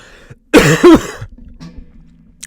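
A single harsh, forceful cough close up, followed by a short rasp and then quiet room noise.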